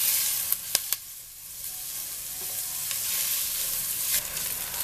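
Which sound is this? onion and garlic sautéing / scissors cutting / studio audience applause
onion and garlic sautéing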